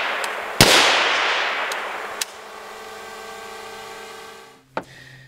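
Two sharp, muffled cracks from a suppressed .30 caliber rifle, the first loud and followed by a long ringing decay, with a lighter click between them and a final brief report near the end, heard close with no talking.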